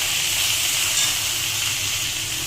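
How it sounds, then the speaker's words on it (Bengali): Cumin powder and ginger paste frying in a pan for a pumpkin, potato and ridge gourd vegetable curry with prawns, giving a steady, close, loud sizzle that holds evenly throughout with no voices. "জিরের গুঁড়ো আদা বাটা দিয়ে খুব ভালো করে কষিয়ে নেব।"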